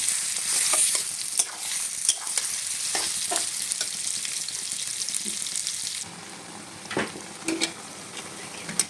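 Olive pickle cooks in a pan with a soft steady sizzle, while a spoon scrapes and stirs in repeated light strokes, close and fairly quiet.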